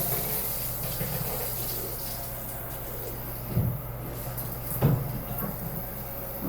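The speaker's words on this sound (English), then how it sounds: "I'm gonna turn the water on. Make sure we don't have any leaking going on." A bathtub tap in a rental property runs with a steady water rush, and two brief knocks or clunks sound partway through.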